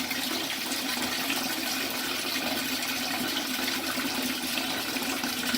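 Water running steadily from a drained water heater tank, a constant broadband rushing and trickling at close range with no breaks or talk.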